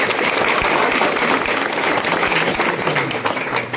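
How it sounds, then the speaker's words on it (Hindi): Loud, dense audience applause at a club ceremony honoring about fifty students, a continuous burst of clapping filling the few seconds. "आप लोग इनके लिए एक बार जोरदार ताली बजाइए"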